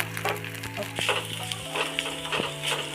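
Ginger paste, garlic paste, chopped onion and crushed chilli fry with whole spices in hot oil for an aloo paratha filling, a steady close sizzle with scattered stirring clatters and a faint background hum throughout.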